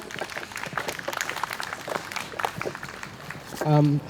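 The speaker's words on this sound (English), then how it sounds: "Everyone give her a round of applause for Arka." A crowd at an Independence Day event at SOAS claps to welcome a student speaker, steady scattered applause under talking voices, with a short tonal beep near the end.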